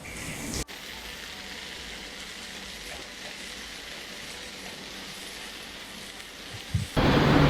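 Sliced onions sautéing in a pan, a steady close sizzle and crackle running continuously with a sharp clunk near the start and louder stirring noises at the end.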